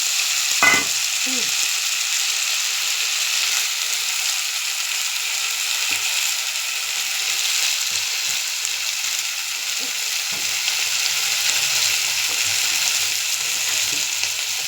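An egg and onion mixture with peas fries in a pan with a soft, even sizzle, and a sharp clink of a utensil near the start, then occasional faint knocks.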